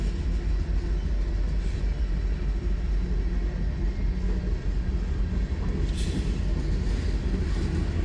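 An ethanol freight train rumbles past at a road crossing, a low continuous droning roll of wagons that stays steady and moderately close for the whole stretch, with no talking.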